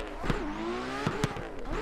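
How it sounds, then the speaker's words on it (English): A drift car's engine in Assetto Corsa bangs against the red line, a loud, strained buzzing whine broken by sharp pops and crackles in quick succession. "Just a banging red line."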